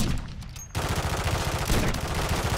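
Dense, loud automatic gunfire from a Call of Duty match, a rapid, continuous rattle of shots that cuts in sharply after a brief quieter moment and keeps hammering steadily to the end.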